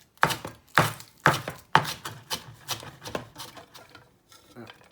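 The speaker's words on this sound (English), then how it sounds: "So you want to cut it small, cut it big, whatever you like. Yep, so cut these." A knife chops ingredients for salt and pepper shrimp on a cutting board: about eight sharp, evenly spaced strikes that start loud and grow softer and quicker, then fade out.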